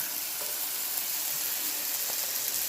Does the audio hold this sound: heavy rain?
no